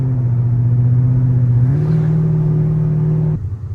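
A modified Chrysler 300C with long tube headers cruises, its engine holding a steady loud drone that steps up in pitch about halfway as revs rise, then drops away near the end, with no talking.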